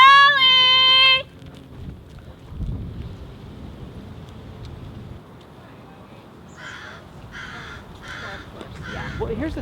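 Ravens give a short run of harsh caws in open air in San Francisco, spaced in uneven bursts over steady wind rumble, preceded by a loud whistled tone at the start.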